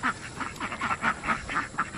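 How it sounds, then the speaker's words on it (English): Several ducks quack in a repeated, bouncy rhythm in an outdoor duck enclosure, the calls close and fairly loud with overlapping voices from two groups. "we have two separate factions of ducks."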